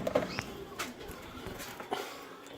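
A colour canary cock sings in short chirping bursts at close range, the phrases brief and intermittent against a faint background.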